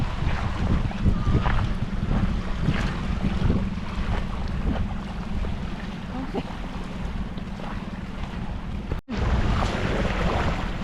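Strong wind blowing over the open sea near an island, a steady loud rush with buffeting gusts on the microphone and faint water wash beneath, with a brief dropout near the end.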